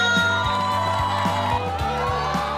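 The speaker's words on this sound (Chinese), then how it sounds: "掌声欢迎他！" A live television audience in Taiwan cheers and applauds to welcome a 73-year-old guest. Loud, sustained crowd noise carries whoops and shouts throughout.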